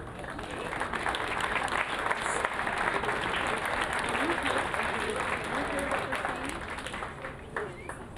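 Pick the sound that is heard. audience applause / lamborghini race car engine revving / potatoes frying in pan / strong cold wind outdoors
audience applause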